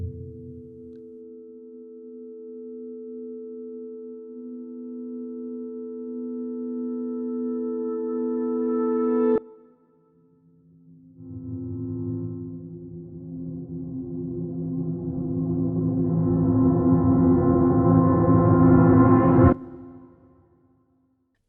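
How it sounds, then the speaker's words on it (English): Reversed articulations from This Is Not a Piano, a piano-based sample library, swell in volume. A sustained tonal note builds and cuts off sharply, then a denser, richer swell rises and ends abruptly too. "we have also included the patches with a reversed version of the articulations, perfect for crescendo types of sounds"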